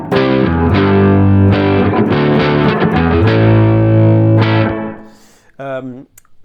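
A Fender electric guitar with the pickups in series position gives a fat humbucker tone, ringing distorted chords that sustain and then fade out before a short final strum.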